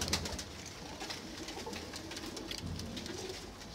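Pigeons from a pigeon keeper's flock coo softly and continuously, layered with faint bird chatter at close range, with no voices.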